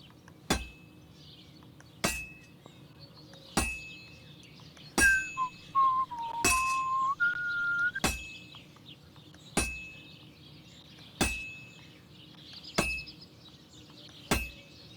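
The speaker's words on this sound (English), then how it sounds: "if it was all about hitting an anvil with a hammer, any dolt could do it" Hammer blows ringing on an anvil during sword forging in Kingdom Come: Deliverance II, about ten sharp metallic strikes at an even pace of roughly one every one and a half seconds, with a brief whistled tune between them.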